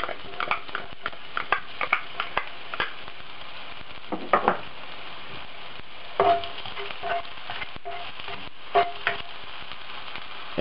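Minced garlic frying in hot cooking oil in a wok, a steady close sizzle with crackles, broken by clacking strokes of a spatula against the pan.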